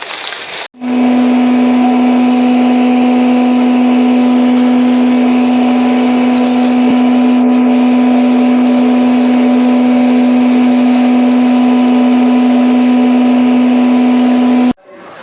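An electric mill grinds pav bhaji masala spices with a loud, steady motor hum and a constant drone for about fourteen seconds, starting and stopping abruptly, close and unbroken.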